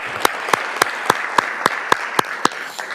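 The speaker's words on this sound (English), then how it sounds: "Give her a huge round of applause." Applause at a school district governing board meeting comes as steady, evenly spaced claps, about three or four per second, fairly close and clear, with no talking over them.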